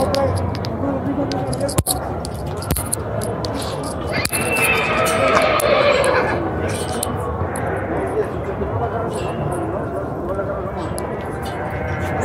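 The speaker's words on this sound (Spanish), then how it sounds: "Caballo inquieto, vale." Horse neighing amid the noisy bustle of a Mexican animal market, a whinny rising partway through over constant crowd chatter, with occasional clip-clop of hooves nearby.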